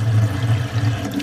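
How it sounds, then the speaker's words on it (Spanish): Waxy apple rinsed under a running kitchen tap with water and soap, a steady splashing water stream close by and fairly loud, with no talking. "He lavado la manzana con agua y jabón y sigue teniendo ceras."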